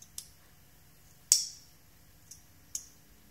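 Small haptic coin clicking sharply as its halves separate and snap together while rotated, a handful of crisp isolated clicks with one louder snap, close and alone.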